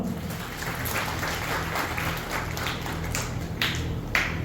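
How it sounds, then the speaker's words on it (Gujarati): Audience applause at a community trust's felicitation ceremony for bright students, a continuous patter of many hands clapping at moderate distance with a few sharper claps near the end. "ટ્રસ્ટી અને ગણપતભાઈને બધાને જોરદાર તાળી જોઈ"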